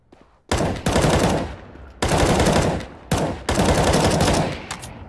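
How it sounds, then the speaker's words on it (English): Loud bursts of video game gunfire in a competitive shooter match, coming in several sustained rapid volleys separated by short gaps, with no talk over them. "Oh, he shot a gun to you."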